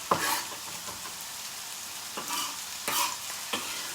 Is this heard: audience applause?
no